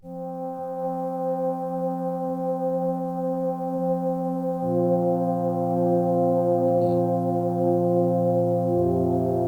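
A sustained, smooth Arturia MiniFreak synth pad holds layered chords that shift partway through, washed in reverb and effects, steady and calm with no voices.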